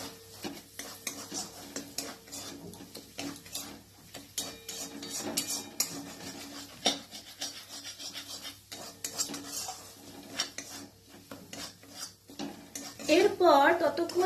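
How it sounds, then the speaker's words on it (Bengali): A utensil scrapes and clinks steadily against a pan while Kashmiri chili and turmeric powders are stirred in, the soft scraping continuing through the clip with a faint sizzle near the end. "এরপর ভালো করে মিশিয়ে নেব।"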